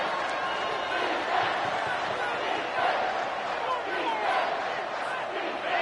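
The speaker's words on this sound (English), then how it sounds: "the noise from this crowd on 3rd and 4" Dense stadium crowd roar at a college football game between Rice and Air Force on a third-and-four, a steady loud wash of voices with no distinct peaks.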